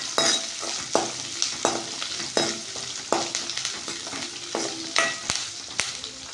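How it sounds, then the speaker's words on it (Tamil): Chopped onions frying in a pan for a chickpea curry, loudly stirred with repeated rhythmic spatula scrapes and knocks roughly every half second over a constant sizzle. "இதை நல்லா கிண்டி விட்டுக்கோங்க."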